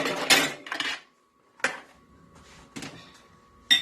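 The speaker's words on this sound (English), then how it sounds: "Get my cookie sheet out" A metal cookie sheet is pulled out and set down, giving a few sharp clattering bangs and rattles separated by short pauses, close and fairly loud, with a faint steady hum between them.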